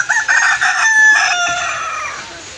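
A rooster sitting under a basket in a rural Punjabi home crows once, loud and close, with a rising then drawn-out call fading over about two seconds.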